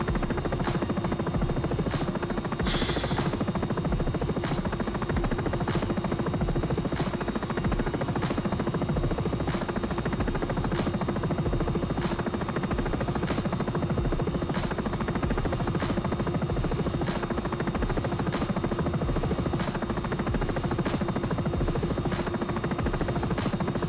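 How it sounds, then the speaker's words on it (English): A Sikorsky S-76 helicopter in the X-Plane 11 flight simulator gives a steady, droning rotor buzz with regular blade thumps throughout, constant in level and without voices. "after much fighting with a helicopter"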